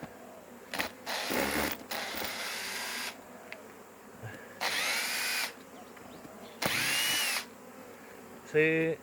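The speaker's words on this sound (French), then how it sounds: "Donc ici on est sur des cadres qui ont été vissés. Donc on va déjà tous les dévisser." A power screwdriver whines in several separate bursts, each a few seconds long, backing screws out of beehive frames that were screwed down for transport, with quiet pauses between runs and a brief click near the end.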